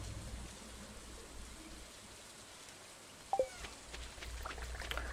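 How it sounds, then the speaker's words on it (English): Rain falls in a video game, a faint, steady patter with a couple of brief louder drops partway through. "Now that it's raining, this is a perfect opportunity to"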